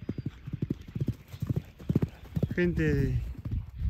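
A chestnut horse breaks into a full-speed start, its hooves clip-clopping in a quick, loud rhythm close by, with a whinny partway through and someone talking over the hoofbeats.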